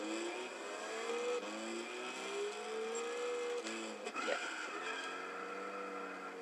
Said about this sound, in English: This thing drifts, actually.